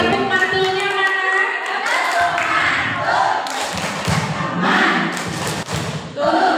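Group of teachers at a training session doing the 'tepuk mantul' clap, loud rhythmic clapping and thumping mixed with a crowd chanting and voices throughout.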